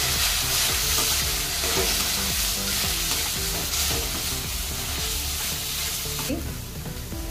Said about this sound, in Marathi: मी यात हे हिरवी मिरची, आले, लसूण पेस्ट आणि खोबरे यात सोडत आहे आणि याला चांगलं परतून घेतो.